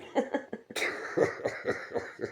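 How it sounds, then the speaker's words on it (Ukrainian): A person coughs repeatedly, several harsh, close coughs in an uneven rhythm with brief gaps between them. "Кашель."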